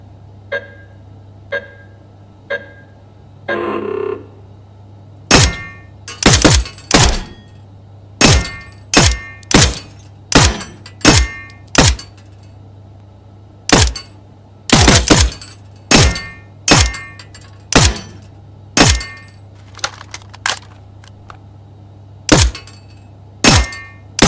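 Repeated gunshots fired at targets in a shooting minigame in the video game Transience, a few soft knocks first, then about twenty sharp, loud cracks in quick irregular bursts, standing alone with no talk.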